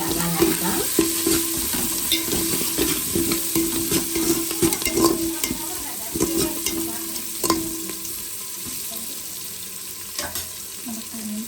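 Onions frying until reddish-brown for prawn biryani, with steady sizzling and stirring in the pan throughout, plus occasional clinks of a utensil against the cookware, close and fairly loud with no voices.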